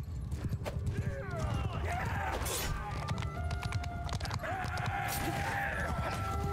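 Horses in the medieval battle game Mount & Blade II: Bannerlord, hooves clip-clopping steadily through a busy battlefield din, with occasional whinnies and faint voices mixed into the constant noise.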